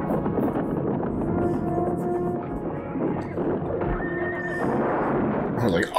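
A horse whinnies in a fantasy action film amid a busy soundtrack of hoofbeats and commotion, with people talking over the scene.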